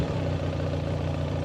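A BMW R 1300 GS motorcycle engine idles steadily right after starting, a close, even low rumble with a faint mechanical clatter and no pauses.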